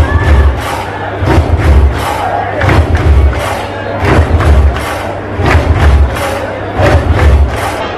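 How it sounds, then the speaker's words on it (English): Crowd gathered on opening night of the Hilton Oktoberfest, a steady loud murmur of many voices with rhythmic thumping bursts and rising cheers recurring every second or so. "As you can see, the crowd is eagerly waiting out there."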